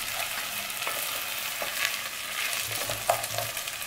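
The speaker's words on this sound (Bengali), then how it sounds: "এটাকে খুব ভালো করে ভাজতে হবে" Soaked rice frying in a pan for chicken polao, a dense, continuous sizzle and crackle with soft scraping stirs throughout, close and even in loudness, with no talking.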